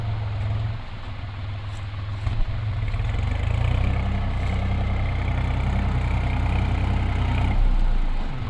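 A New Holland 3.5 Plus 50 hp tractor engine idles close by, a loud continuous low rumble with a faint rattling clatter layered over it.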